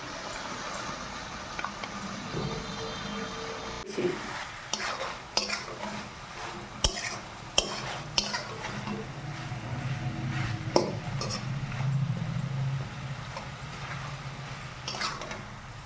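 Chili, onion and garlic paste sautés in a pan, stirred with a metal spatula that clicks and scrapes repeatedly over a low steady sizzle, close and fairly quiet.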